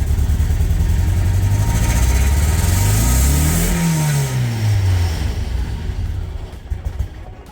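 A Mazda NA Miata engine runs loud and close, its revs rising steadily then falling back over several seconds before settling toward a rough idle.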